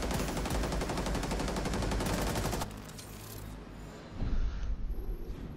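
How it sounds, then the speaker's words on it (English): Sustained automatic gunfire in Rainbow Six Siege, a long rapid stream of shots that stops abruptly, followed by quieter rumbling and a short louder burst near the end. "You shot 42 bullets into her chest while she was dead and then walked away."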